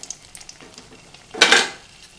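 Appam rice batter poured into hot oil gives a short, loud burst of sizzling that lasts well under a second, rising out of a quiet kitchen background.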